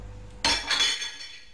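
Dishes being washed give a single sharp clatter of plates and cutlery knocking together, followed by a few fading clinks in a quiet room.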